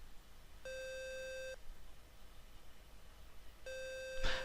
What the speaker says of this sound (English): the sound is actually the timer almost running out